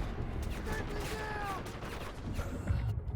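Bursts of automatic gunfire in the Delta Force video game, dense rapid rattling that runs steadily throughout with faint game effects mixed in.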